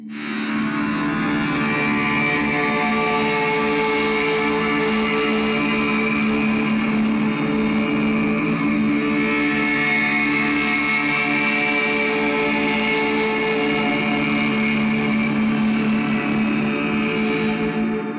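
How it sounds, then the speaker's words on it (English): Sustained ambient guitar pad played through a fuzz, a POG octave pedal, analog and digital delays, a reverb and an EQ, forming a thick, steady, shimmering drone with layered harmonics and long echo tails, loud and unbroken throughout. "a fuzz, a pog, an analog delay, a digital delay, a reverb, and an EQ."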